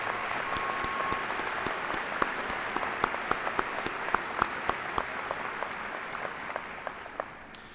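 Sustained applause from a crowd at a high school commencement ceremony recognizing faculty and administration, a steady even wash of many clapping hands with a few sharper nearby claps standing out, fading slightly toward the end.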